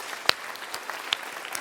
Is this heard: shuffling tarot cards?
no